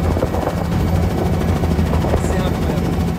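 Helicopter in flight, a loud, steady roar of rotor and engine heard up close, continuous and unbroken throughout with no voices.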